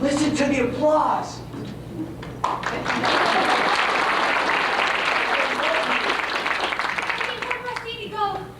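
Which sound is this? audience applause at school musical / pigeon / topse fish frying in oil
audience applause at school musical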